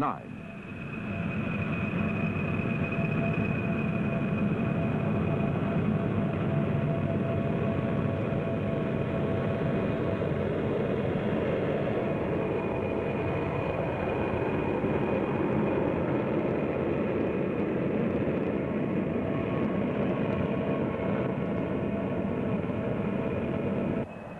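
North American XB-70 Valkyrie, ship number 2, a supersonic bomber prototype, heard as a steady, loud, unbroken roar with a faint high whine, continuing throughout with voice communications mixed in.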